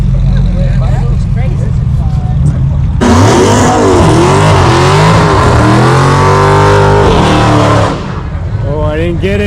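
A Dodge Hellcat accelerates hard during a Milwaukee street race, its engine bursting in loudly and roaring up through rising revs for several seconds before easing off, with people talking over it throughout.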